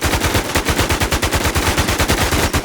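Rapid automatic gunfire in a shooter video game, loud and continuous with fast repeating bursts and no pauses.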